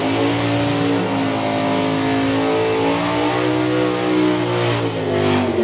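A drag racing car at a Dragstalgia event accelerates hard down the strip, its engine a loud, sustained roar with harmonics climbing steadily as it pulls away, heard up close with no voices over it.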